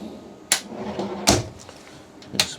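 Drawers in a camper kitchen sliding open and shut, three sharp wooden clunks spaced about a second apart over quiet room tone.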